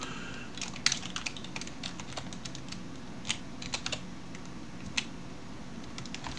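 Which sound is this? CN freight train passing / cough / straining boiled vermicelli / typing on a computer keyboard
typing on a computer keyboard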